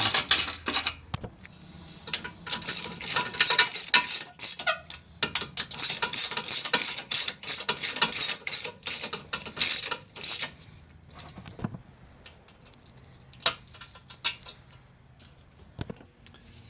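A hand ratchet snugging up engine bolts on a Kia Soul during an engine replacement, with dense rapid clicking bursts that fade into sparse ticks and a few louder clanks.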